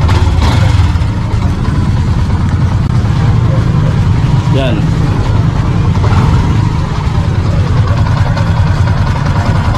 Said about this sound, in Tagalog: pwedeng paandarin yung motor